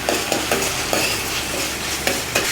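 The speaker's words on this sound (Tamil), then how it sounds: "வெங்காயத்தை வதக்கிக்கலாம்." Onions and curry leaves sauté in a pan for a ridge gourd and toor dal kootu, making a loud, close, steady sizzle with several rhythmic scrapes of a spatula stirring through them.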